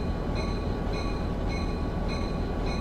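A Caltrain train approaching a station gives a steady loud rumble with a high metallic wheel whine that swells in regular pulses roughly every half second, close and continuous with no talking.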